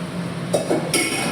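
Cooking pots are put away in a home kitchen, giving a few metallic clinks and knocks close by, three brief clanks in quick succession over quiet room noise.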